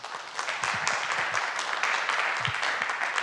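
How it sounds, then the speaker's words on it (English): An audience at a city council meeting claps together, a broad sustained wash of applause holding steady throughout with a few louder bursts. "Everyone, thank you so much for your applause."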